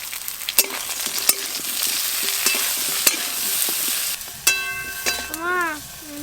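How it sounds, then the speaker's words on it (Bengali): Small pond fish frying in a pan on a home stove: a steady close sizzle with repeated metallic taps and scrapes of stirring, plus a brief tonal squeak near the end. "আমাকে মা মাছ ভেজে দিচ্ছে"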